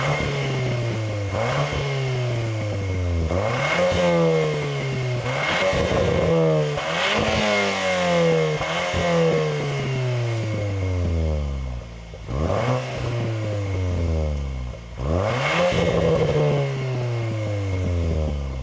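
An ABT-tuned Cupra Leon ST VZ, boosted to 400 hp, is revved hard in repeated bursts, the engine climbing and dropping in roughly five loud, close pulls with a rasping exhaust note and brief pauses between them.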